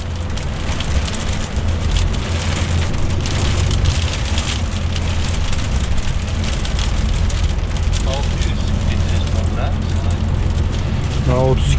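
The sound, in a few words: strong wind buffeting a truck on a snowy road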